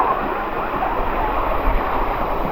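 Waterfall at Sai Yok Noi in Thailand, heard from down in the water below it: a steady, full rushing roar of falling water that stays even throughout, with no voices.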